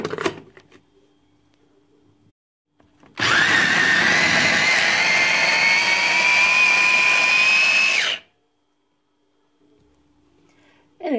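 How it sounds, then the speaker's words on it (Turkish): A food processor purees pumpkin pieces for pumpkin balls, a loud steady motor whir with chopping blades that runs for about five seconds after a pause and then cuts off abruptly. "Şimdi bunu rondodan geçirelim"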